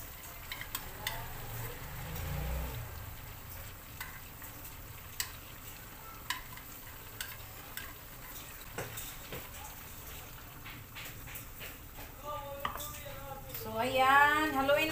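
Liver spread being stirred into a sautéing mix in a pan, with soft scraping strokes and a faint sizzle running throughout, plus a few clinks of utensils.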